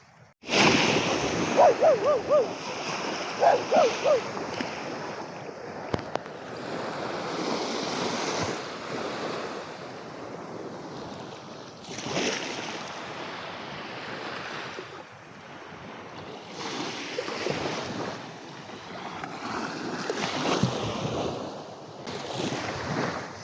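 Ocean surf and gusting wind roar continuously at a beach in La Union, with waves surging and receding in broad swells and wind buffeting the microphone throughout.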